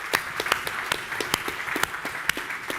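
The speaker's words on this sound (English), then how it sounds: "So, can we give a round of applause to Quentin for volunteering?" An audience claps for a volunteer at a public speaking masterclass, a scattered round of individual handclaps, fairly close and moderately loud, irregular rather than a dense roar.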